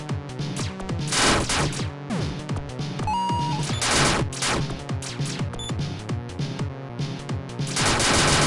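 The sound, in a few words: Buster shots firing in video game Rockbot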